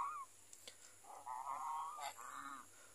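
Geese in a taro garden give a few nasal honks, one after another, near and moderately loud, against a quiet outdoor background.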